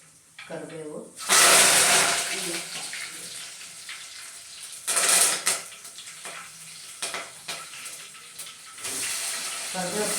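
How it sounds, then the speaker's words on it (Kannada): Curry leaves dropped into hot oil for tempering, in a home kitchen cooking for a family celebration, burst into loud, spitting crackles and hiss that flare up, ease off, then surge again. "ಕರಿಬೇವು ಸೌಂಡ್ ಕೇಳಿದ್ರೆ ಎಲ್ಲಾನು ಬಾಂಬ್ ಹಾಕ್ಯಾರ ಅನ್ಬೇಕು,"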